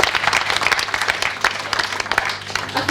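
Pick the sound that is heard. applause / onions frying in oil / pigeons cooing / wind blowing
applause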